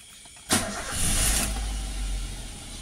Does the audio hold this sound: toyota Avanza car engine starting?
yes